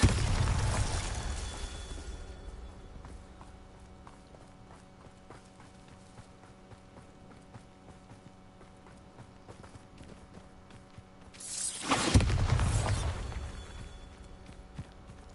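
A Bombarda explosion spell in a video game goes off as a loud, close blast that fades over a couple of seconds, followed later by a second sharp burst.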